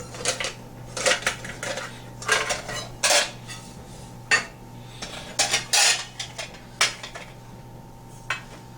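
Small metal backpacking cook pans clatter and clink together close by, in repeated bright bursts of rattling and scraping with short pauses between them, and no voice is heard.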